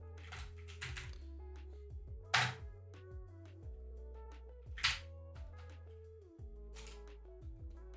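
Keystrokes on a computer keyboard while writing F# code, irregular clicks and short bursts, with a couple of louder taps, over a steady low background hum.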